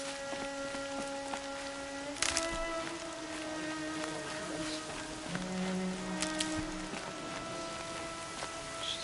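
In the video game Horizon Zero Dawn, steady rain patters softly over a quiet backdrop of sustained tones, with a couple of brief louder splashes.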